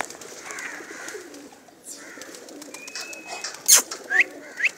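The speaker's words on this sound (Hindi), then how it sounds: "इत्थे इन्होंने जोड़े वाले कबूतर रखे हैं।" A paired pigeon coos softly amid outdoor ambience at a dog breeder's yard, with a few sharp bird chirps near the end.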